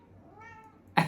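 A cat gives a single soft, drawn-out meow in a quiet room, with a short louder burst of noise cutting in at the end.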